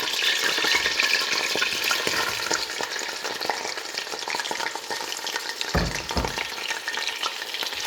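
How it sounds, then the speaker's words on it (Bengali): Frozen garlic cubes and onion frying in a pan for a Sylheti tomato fish curry, a steady loud sizzle with stirring scrapes and a couple of sharper bursts near the end, no talking. "আর এখন আমি ফ্রোজেন চারটা কিউব রসুন দিয়ে দেবো পেঁয়াজ দিয়ে দেবো"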